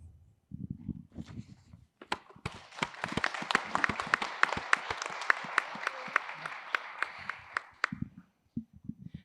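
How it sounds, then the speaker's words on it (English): An audience at a live crime-fiction reading event breaks into applause after a reading. A few low thumps come first, then several seconds of steady clapping with distinct sharp hand claps, and it tapers off into scattered taps. "Please don't hold your applause."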